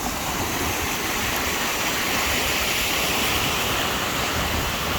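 Little creeks flowing over rocky ground near Seydisfjordur, Iceland, a steady, close, full rushing of water that carries on without a break and with no voices.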